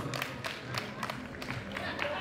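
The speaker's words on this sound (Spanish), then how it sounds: "Fuertes aplausos" Wedding guests applaud a speaker with steady, moderate clapping, a dense patter of hands with some voices mixed in.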